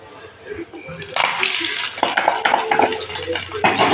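Cashews tempered in ghee tip onto a pot of ven pongal. A soft splash and clatter opens it, then scraping and sizzling-pan noises carry on up close under continuous kitchen clatter.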